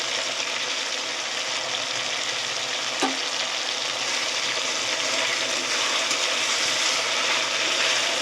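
Tomatoes softening in a hot pan for vegetarian ghugni give a steady, even sizzle that runs throughout, with one brief clink partway through.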